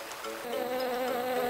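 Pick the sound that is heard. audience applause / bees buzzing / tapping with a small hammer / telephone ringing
bees buzzing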